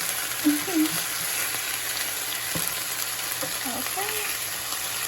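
Shrimp fry in a pan for a parmesan shrimp wrap, giving a constant bright sizzle across five seconds, broken by a couple of light clatters as pieces are moved and a faint voice speaking over it.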